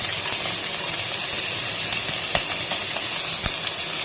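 Beans and vegetables hit hot oil and crackle with a loud, dense sizzle that holds steady throughout, peppered with small pops and spatters, with no voices.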